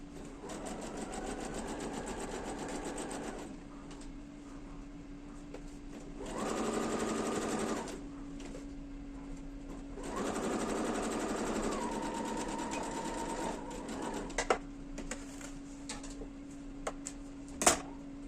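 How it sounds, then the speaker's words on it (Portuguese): A sewing machine stitches a fabric pouch in several bursts of fast whirring, some faster and higher, with quieter pauses between them. A few sharp clicks come near the end. "E posso passar uma costurinha aqui."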